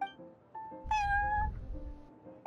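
Prince, a cat in Genshin Impact, gives a clear, drawn-out meow in the middle of the clip, with softer tonal game sounds around it and no speech.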